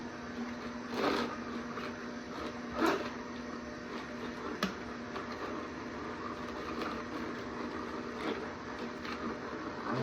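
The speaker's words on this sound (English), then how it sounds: "And it just grinds it all up, and you just get all those juices." An electric juicer grinding celery and other vegetables, a continuous close mechanical whir with occasional louder crunching bursts as pieces feed through, no talk.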